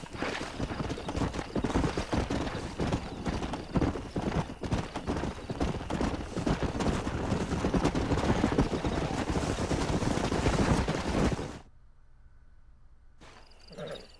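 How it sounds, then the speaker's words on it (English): Horses in the video game Red Dead Redemption, a dense run of hoof clip-clops at a steady trot with occasional whinnies, loud and close, stopping abruptly near the end. "We got some fine horses."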